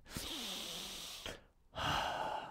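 A person takes a deep, audible breath in close to the mic, a short sharp gasp followed by a sustained airy inhalation, then a brief pause and another breathy rush.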